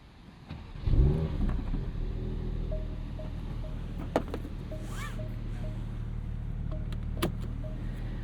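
A 2025 Porsche 911 GT3 of the 992.2 generation fires up with a sharp starter catch and rev flare, then drops to a steady, close idle. Faint clicks and beeps from the cabin sound over the engine.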